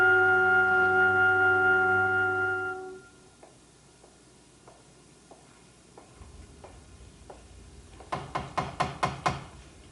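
Knocks on a door come in two bursts: first a slow series of quiet, evenly spaced raps, then a louder rapid run of five or six knocks near the end, after a sustained organ-like chord fades out.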